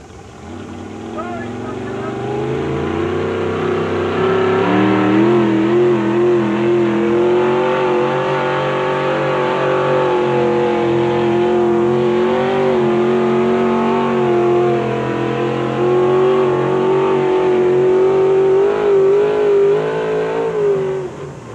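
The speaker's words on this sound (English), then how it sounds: "Here's Mike Harvey in his main two-wheel drive truck, Thunderbolt." Mike Harvey's two-wheel drive pulling truck Thunderbolt revs hard at a tractor pull exhibition, its engine rising and holding a loud, throaty drone for about twenty seconds while an announcer talks over it.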